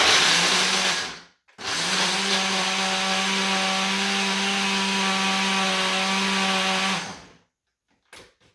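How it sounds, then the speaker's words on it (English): A kitchen blender whirs loud and steady for about five and a half seconds while mixing dry gluten-free chocolate cake ingredients with chocolate chips, a harsh motor drone that starts abruptly and cuts off just as sharply, with a brief clatter afterward. "we're going to blend all that together"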